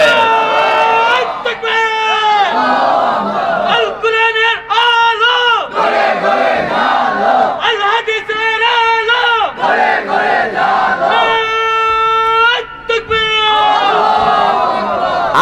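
A large crowd at a Bangla Islamic sermon gathering chants the Nara-e-Takbir slogan in loud, repeated shouted bursts, call and response rising and falling in a steady rhythm.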